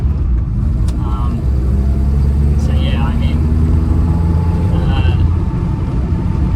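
A Datsun 1600 rally car's engine drones low and steady throughout while driving, with someone talking briefly over the cabin noise.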